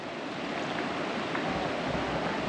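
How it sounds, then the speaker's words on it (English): Fast-flowing floodwater rushing through river rapids between roads during record Waterford flooding, a constant broadband roar and hiss of churning water, steady and unbroken with no voices. "these are just river rapids. The speed at which that is flowing"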